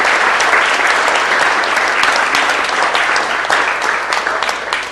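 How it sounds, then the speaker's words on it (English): Loud, sustained applause from an audience at a city council meeting honoring a blind veteran, dense clapping filling the room without pause and tapering slightly near the end. "Give him another round of applause for Tuskegee Airmen."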